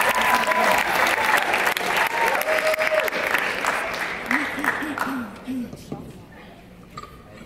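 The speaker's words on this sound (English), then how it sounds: "Please give him a round of applause" Loud applause from a crowd with cheering and whistles, gradually thinning out and fading away over several seconds.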